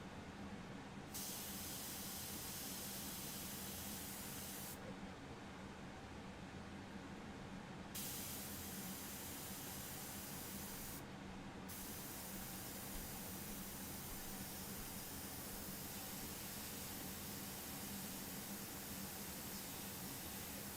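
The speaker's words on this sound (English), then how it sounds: "Some freehand airbrushing here." An airbrush sprays freehand onto a painting, a continuous close hiss that holds steady throughout with only brief shifts in its upper edge.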